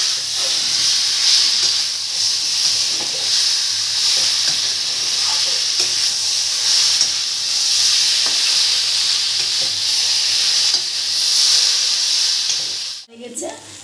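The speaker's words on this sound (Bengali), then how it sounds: "একটু সময় কষিয়ে নেব" Tomatoes with a pinch of turmeric fry in a pan for a sweet potato dish, giving a loud, continuous close sizzle and hiss. Soft stirring scrapes recur throughout, and a sharp clatter comes near the end.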